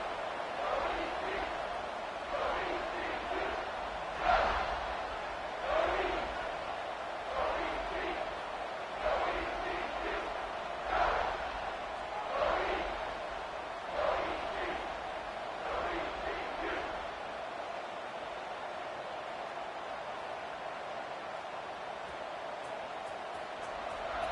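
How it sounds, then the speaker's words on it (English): A football stadium crowd at a Memphis vs ECU game roars steadily at kickoff, a distant broad cheer with periodic swells under continuous commentary. "this crowd is feeling themselves after that last drive"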